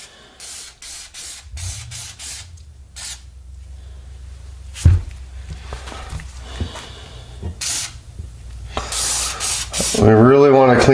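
Aerosol cleaner hisses in repeated bursts onto a Beretta A400 shotgun, close and fairly loud, with some handling knocks between sprays and a longer hissing blast at the end.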